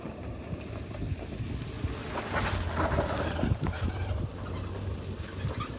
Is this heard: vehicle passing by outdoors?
yes